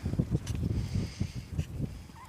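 Domestic geese honk and gabble in a rapid, overlapping series of nasal calls on a village farm in Ukraine, close by and fairly loud, with no talking.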